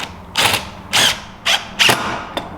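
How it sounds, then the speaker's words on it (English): A power driver sets screws into a wooden table in four short whirring bursts with pauses between them, each burst loud and close, ending with a brief final tap. "I'm going to pop a couple screws in here"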